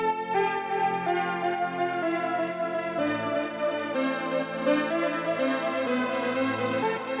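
Self-made wavetable synth preset called fountain in Ableton Live for a melodic house track, playing a bright, harmonically rich sustained chord pattern that shifts once partway through, steady and alone.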